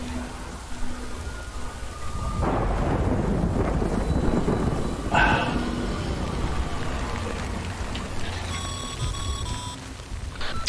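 Steady rain falls in the video game Death Stranding, a dense hiss of drops that swells after a quieter start and holds moderately loud, with faint rumbles underneath and no talking.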